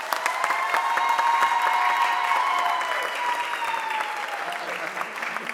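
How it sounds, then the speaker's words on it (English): An audience at a mayor's press conference on a school board discussion applauds steadily, a dense, sustained wash of clapping that fills the whole stretch at close range, with a faint tonal hum running underneath and tapering slightly toward the end. "Wanda, give her a round of applause, please"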